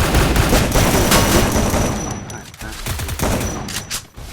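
Gunfire from the Free Fire video game plays as dense, loud rapid bursts and fusillades that continue almost without a break, mixed with speech from players talking over it.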